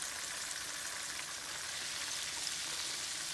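Food fries in a skillet with a little grease, a soft, steady sizzle that stays even and fairly faint from start to finish with no voices.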